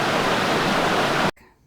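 River water flows steadily at a trail stop, a dense, loud rushing wash that cuts off abruptly near the end.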